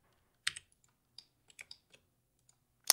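Keys on a computer keyboard clicking during modeling work in Blender, a burst of presses followed by a few scattered separate taps and a final sharp click, close and fairly quiet with no talking.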